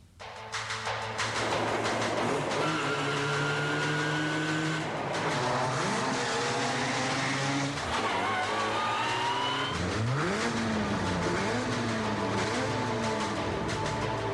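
Powerful cars drag racing through a road tunnel, engines revving hard and rising in pitch through gear changes, echoing loudly with tire squeal as they accelerate past.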